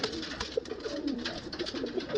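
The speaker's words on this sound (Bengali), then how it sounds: "এটা একটা মাদা পায়রা, দেখুন।" A domestic pigeon, a male bird kept among others for sale, gives soft low coos in short repeated bursts against a busy background of other birds.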